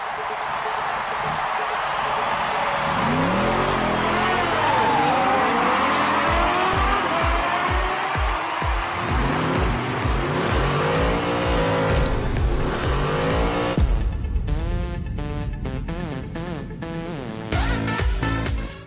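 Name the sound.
rocket-powered cars driving in the video game Rocket League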